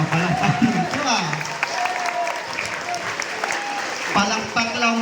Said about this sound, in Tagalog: Palakpak lang po.